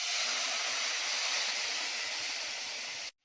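A liquid rasam mixture poured into hot oil in a pan gives a loud, steady hiss with scattered low bubbling pops, lasting about three seconds before cutting off abruptly into quiet.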